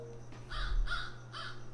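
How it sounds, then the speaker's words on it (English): A crow caws three times in a slow, evenly spaced series, each call a harsh, moderately loud rasp over a low steady hum. "That's a crow."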